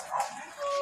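A Belgian Malinois in K9 obedience training gives a brief, sharp bark or yelp, close and loud but lasting under a second.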